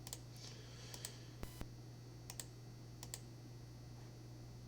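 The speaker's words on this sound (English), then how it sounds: "Hit the space bar to generate color schemes." Keys clicking on a computer keyboard, with a few sharp isolated taps and one heavier press standing out, faint against a steady low electrical hum.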